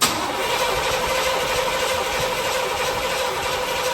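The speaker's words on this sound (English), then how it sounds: "I'll let it crank for a little bit." A Chevrolet El Camino's engine cranks continuously without catching, a loud, steady mechanical churn that fills the whole stretch with no break and no talk over it.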